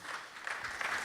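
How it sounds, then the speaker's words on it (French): Brief burst of audience applause for guest comics creators at a festival panel, a quiet, distant patter of clapping lasting about a second. "Si je me permettrais de vous demander une salve d'applaudissements pour ces gentlemen"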